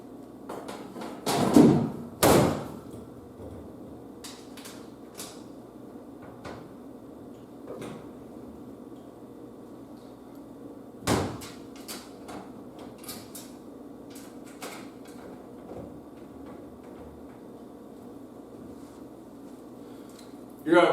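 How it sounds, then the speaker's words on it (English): A furnace access panel being refitted after an air filter swap, with a few sharp knocks and clunks near the start and another around the middle, over a low steady hum and faint room noise. "You're going to put your door back on."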